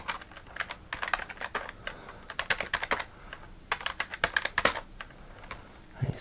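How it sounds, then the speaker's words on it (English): Typing on the keyboard of a Basic Engine retro computer: quick uneven bursts of clicky keystrokes, close and clear, broken by short pauses, with no voices. "If I could type."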